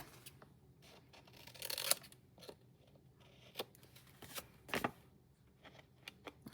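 Scissors trimming card stock for a handmade masculine greeting card: a few quiet, crisp snips and rustles spread across the moment, with a louder cluster of cuts partway through and another sharp snip later, no voices.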